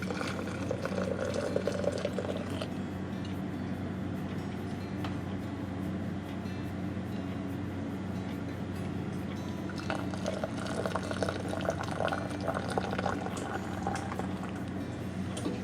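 Apple juice bubbles and splashes in a steam juicer, a continuous busy boiling and gurgling wash of liquid noise that holds steady at moderate loudness throughout.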